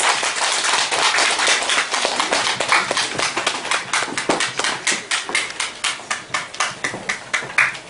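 Applause from an audience at an album listening event fills the room, a dense wash of many hands clapping that thins out toward the end into scattered separate claps.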